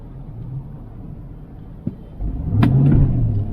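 A 2023 Chevrolet Tahoe LT pulls away, its engine swelling from a low idle rumble into a louder, rising drone near the end, with a brief knock partway through.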